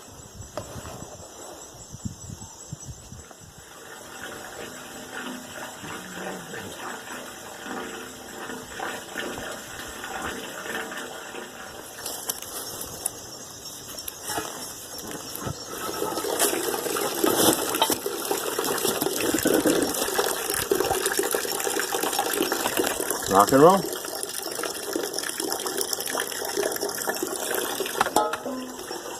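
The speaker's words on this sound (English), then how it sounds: "I'm just going to let the hose run." Water from a garden hose runs into a septic line under repair, a steady hiss and gurgle that swells louder and fuller partway through, with brief speech at one point.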